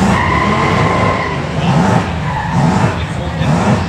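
A 5-litre Ford Mustang on a hill climb course, its engine revving loudly as the tyres squeal and skid, the sound sustained over a few seconds with faint crowd talk behind.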